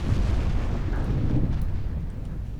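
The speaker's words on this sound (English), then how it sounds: "And we're getting more torpedo hits." Torpedo strikes explode against ships in the naval game Ultimate Admiral Dreadnoughts, a low rumbling blast that rolls on steadily for a couple of seconds.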